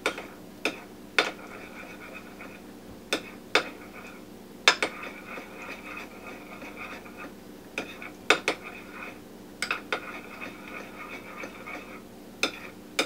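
Honey and mustard sauce being mixed in a bowl: a utensil clinks and taps against the bowl in an irregular rhythm over a quiet background, close and alone.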